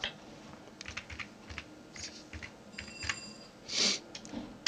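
Keys clack on a computer keyboard in short irregular bursts, close and fairly quiet, with one louder keystroke near the end.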